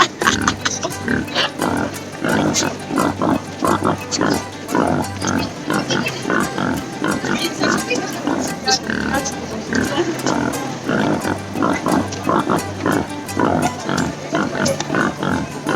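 Pigs grunt and oink continuously, close and loud, in a busy rhythmic chorus with a voice occasionally mixed in.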